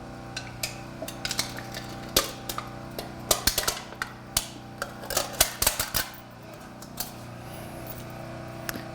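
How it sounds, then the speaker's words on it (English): Hydraulic rescue cutters, big scissor-like fire department tools, snip through metal in a rapid series of sharp clicks, snaps and metallic crunches over a steady low hum, close by. "we can cut through the side of a window frame or a door on a car"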